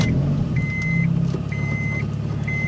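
A 1996 Honda Accord fitted with a cold air intake idles steadily after start-up, a close, even low rumble, with a thin electronic beep chiming at regular intervals over it.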